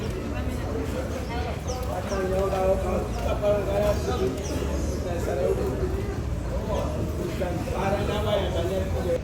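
Birds near the ferry landing in Mayotte, with soft cooing and scattered chirps over a steady outdoor rumble of wind and traffic, continuous and moderately close.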